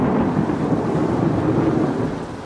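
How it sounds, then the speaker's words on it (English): Storm effect in a horror audio drama: a deep rolling thunder rumble over heavy rain, loud and sustained before easing slightly at the end, with no voices. "Lightning snaked wildly to the ground, and thunder boomed as if to crack the very sky."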